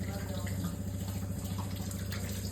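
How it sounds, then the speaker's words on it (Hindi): Tap water runs steadily into a sink while potatoes are washed and a pressure cooker is filled, a continuous close splashing flow with no talk. "आलू को धो लें और अब कुकर लें, उसमें पानी डालें।"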